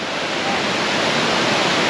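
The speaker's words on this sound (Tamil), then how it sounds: "எவ்வளோ ஸ்பீடாக அடிக்குது பாருங்கள் தண்ணி" Kumbakarai waterfall, a loud, steady rush of forcefully falling water close by, dense and continuous with no voices or other sounds.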